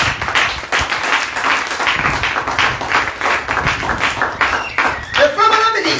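A church congregation bursts into lively applause, many hands clapping together in an uneven, sustained burst that ends with a voice briefly speaking near the close.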